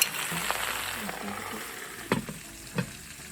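Spinach goes into a pan with garlic and hot pepper, crackling in a soft, faint sizzle broken by a few sharp utensil knocks and stirring scrapes.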